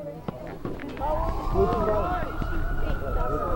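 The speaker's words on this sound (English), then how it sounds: "Sirens have been going wild for the last 2-3 minutes. A fire truck behind us, going down towards the college." A fire truck siren wails behind a high school boys' soccer semifinal, rising and holding steady at moderate distance under crowd noise and voices.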